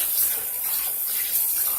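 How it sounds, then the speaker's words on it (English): Tap water runs steadily into a bowl while raw chicken is rinsed in it, a continuous close hiss and splash with no talk. "Just rub it under the water"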